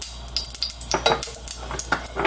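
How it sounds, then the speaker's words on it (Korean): Beef is stir-fried in a pot for Korean radish soup, with scraping and clinking of a utensil against the metal and a soft sizzle, close and irregular, with no talk. "쇠고기를 볶아볼게요."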